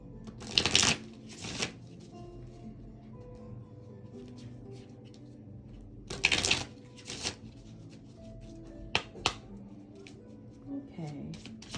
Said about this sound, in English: Let me just do a couple shuffles.